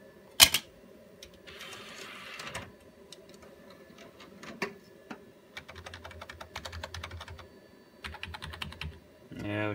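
Keys clatter on an old computer keyboard bought cheap at a thrift store, bursts of rapid close typing broken by short pauses, with a few louder single clicks and faint low hum between.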